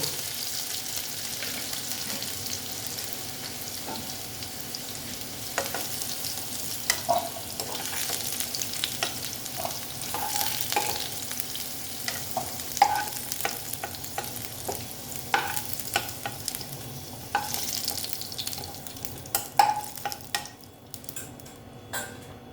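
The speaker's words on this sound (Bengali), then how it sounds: "দেখো বন্ধুরা আলুটা আমার প্রায় ফিফটি পার্সেন্ট ভাজা হয়ে গেছে" Potatoes frying in oil in a pan for a vegetarian moong kalia, a steady sizzle with scattered clinks and stirring scrapes, close and moderately loud with no talking.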